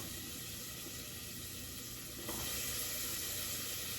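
Steady hissing sizzle of stuffed banana peppers frying in a pan, loud and close, growing slightly louder partway through with no voices.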